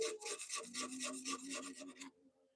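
Sandpaper rasps against wood spinning on a lathe during pen and bowl turning, a steady scratchy friction with regular strokes close up for about two seconds, then it stops, leaving only a low motor hum.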